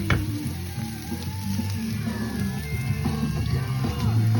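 Onions cooking in olive oil in a pan, a steady soft sizzle running throughout with faint clinks and background noise.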